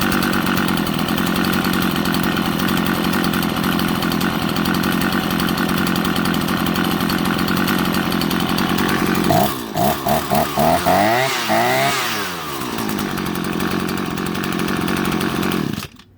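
A weed eater engine that had been completely submerged in water runs steadily at a loud, constant idle close by, then revs up and down in several bursts before settling back and cutting off at the end.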